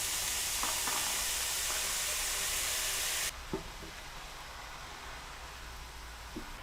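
Chilli con carne mixture sizzles loudly in a hot pan for a few seconds, then the hiss drops to a quieter crackle with a couple of soft clicks.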